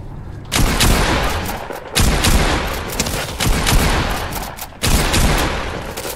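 OG pump shotgun blasts in a Fortnite zombies mode, loud, booming game shots in quick bursts separated by brief gaps, dense and sustained over the whole stretch.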